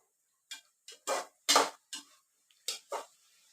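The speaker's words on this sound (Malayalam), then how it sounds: "നല്ലവണ്ണം ഇളക്കി കൊടുക്കുക." Onions for chicken curry being stirred in a pan, a handful of separate scraping and clinking strikes in an uneven rhythm, close and fairly quiet with silence between them.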